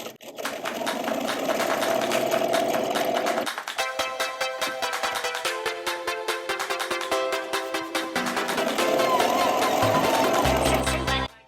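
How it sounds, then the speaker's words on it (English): Sewing machine stitching straight rows across fabric, a fast steady mechanical clatter that pauses briefly, restarts at a slower uneven pace and then speeds up again, close and fairly loud. "practice maintaining consistency in my stitches by using the edge of the presser foot up against that last row and working my way all the way across the fabric"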